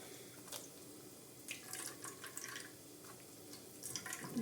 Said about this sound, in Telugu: వాటర్ యాడ్ చేయలేదు, అయినా ఎన్ని వాటర్ వస్తున్నాయో చూడండి.